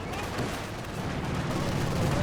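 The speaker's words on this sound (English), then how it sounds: "A lot of Mosins connected all at once." A dense volley of many Mosin rifles firing at once in a WWII strategy video game, a loud continuous crackle of overlapping gunshots with no pause across the whole stretch.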